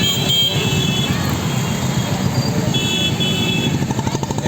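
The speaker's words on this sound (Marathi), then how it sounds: "ट्रॅफिक जाम पहा इकडे" A crowd of motorcycles and other vehicles jams the queue at a petrol pump in Chhatrapati Sambhajinagar. Engines idle and rev in a dense, continuous rumble, close and fairly loud, with a few faint horn toots.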